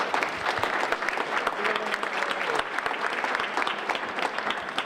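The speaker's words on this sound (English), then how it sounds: "So give yourselves a big round of applause." An audience at a Rotary senior luncheon bursts into sustained applause, a dense, loud roomful of overlapping claps that holds steady throughout without talk.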